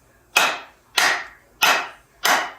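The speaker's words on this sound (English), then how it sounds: "And you'll be able to feel the hammer reacts differently when you're bottomed out on the handle." A hammer strikes a wedge into a loose axe handle four times at a steady one-beat-per-second pace, each sharp woody knock ringing briefly before silence.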